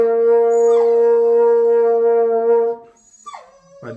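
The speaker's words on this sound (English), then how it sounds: "Dog's having none of it, as you can hear in the background" Nearby, a dog lets out one long, steady howl, then a shorter rising cry after a brief pause. It is loud and close, heard during a beginner's low horn practice.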